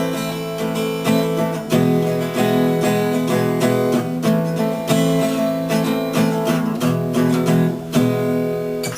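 A guitar strums through a short chord sequence, each chord hit several times in a steady rhythm before switching, close and clear with no talking.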